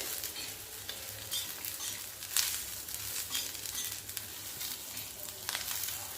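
A mixture is dry-roasted on a tawa over a medium gas flame and stirred steadily, producing a continuous close scraping and light sizzling hiss with occasional louder scrapes.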